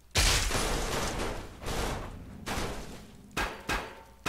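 Gunfire in the video game Fallout 3: a sustained burst of loud, sharp shots fills the first second and a half, followed by a few more separate reports spaced out over the next few seconds, with no talking.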